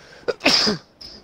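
A single sharp sneeze, close and loud, with a brief intake before it and a short trailing hiss after, during GTA Online play.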